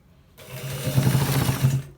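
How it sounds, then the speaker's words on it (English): A sewing machine stitches part of a designer shirt with buttons, a steady close mechanical whir and rapid needle clatter running for over a second before stopping. "So watch it carefully so that you see how we stitch this part"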